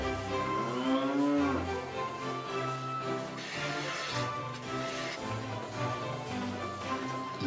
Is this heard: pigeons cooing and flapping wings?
no